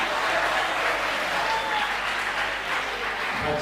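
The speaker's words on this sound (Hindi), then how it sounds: "उनका जोरदार तालियां बजाइए।" A college kavi sammelan audience applauds a poet, a dense and steady round of clapping from a crowd that holds for the full stretch.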